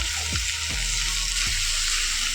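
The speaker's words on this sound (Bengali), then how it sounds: "চিংড়ি মাছগুলোকে দিয়েও একটু এর সাথে কষিয়ে নেবো।" Prawns sautéed in hot oil with elephant foot yam and potato, a steady close sizzle with a few sliding scrapes of a spatula across the pan, no voices.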